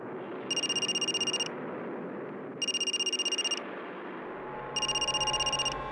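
Landline-style telephone bell rings from an unknown number in a home, three distinct trilling bursts about a second long each, evenly spaced over a low background murmur.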